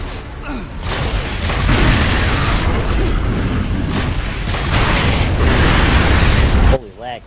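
A frag grenade going off in the video game Gears of War 3, a long loud rumbling blast that rolls on for several seconds amid gunfire and battle noise before cutting off abruptly, with players' voices faintly mixed in.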